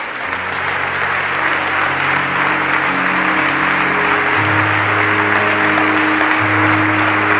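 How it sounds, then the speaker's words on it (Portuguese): Church congregation clapping loudly and continuously during a Portuguese-language worship service, with sustained organ or keyboard tones holding underneath the applause. "Dê um aplauso a Jesus."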